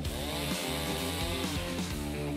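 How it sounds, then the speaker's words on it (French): A power saw trims a protruding part off a cardboard house, giving a loud, continuous, close buzzing drone that wavers slightly in pitch as it cuts. "On scie ce qui dépasse."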